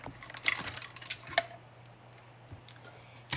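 A mini Stampin' Cut and Emboss machine cutting a vine shape from cardstock, heard as faint, quiet clicks and light mechanical ticks in an otherwise hushed room.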